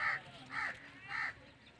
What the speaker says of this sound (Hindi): ये बैठा है कौवा बिल्कुल सूरज के पास।